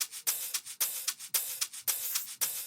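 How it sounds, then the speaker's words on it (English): A shaker loop in an Afro-style beat plays a steady rhythmic shuffle of crisp, bright rattling pulses, repeating evenly and heard alone with no talk. "They'll have these shakers."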